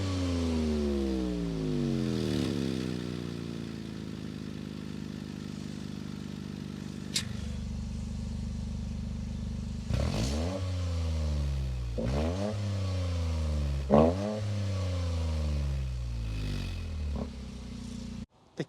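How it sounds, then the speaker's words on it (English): A 2025 Toyota GR Corolla Core hatchback cranks and fires up, then runs through a series of rising revs and drops. The exhaust is close and clear, with a couple of sharp mechanical clicks between the pulls and no speech. "start it up, so you could hear that exhaust note."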